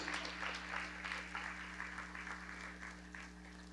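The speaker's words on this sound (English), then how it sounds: "Let's give them a nice round of applause for all that they do." Applause from a graduation ceremony audience honoring probation staff, a steady, fairly distant round of clapping over a constant low electrical hum.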